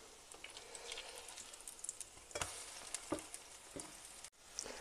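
Grated sweet Polish potato pancakes (plendzé) of well-wrung batter fry in a pan, giving a steady close sizzle and crackle with a few sharp pops and taps along the way.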